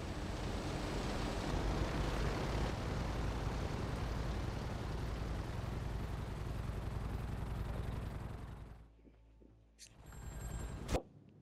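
In a video game, a loud, steady roar of an A37 jet engine rumbles for several seconds as it lands, then abruptly cuts out, leaving quiet with a couple of sharp electronic blips.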